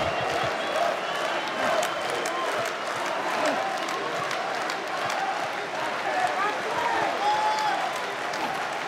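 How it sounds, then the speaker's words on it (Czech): An arena crowd at an OKTAGON 32 MMA event rises and applauds a fighter, dense sustained clapping and cheering filling the hall for the whole stretch, with a commentator's voice running underneath. "Hala povstává, tleská Kozmovi."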